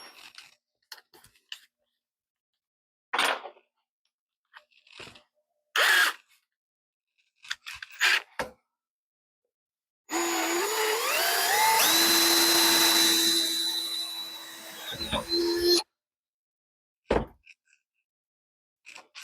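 An impact driver spins a quarter inch drill bit in one loud, continuous whirring burst of about six seconds during work on a 1968 Ford F250 steering column, framed by scattered clicks and handling knocks before and after.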